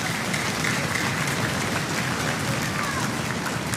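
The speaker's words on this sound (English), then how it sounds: "give him a huge round of applause" Steady, dense applause from a large audience, loud and continuous with no pauses, like a packed room clapping enthusiastically.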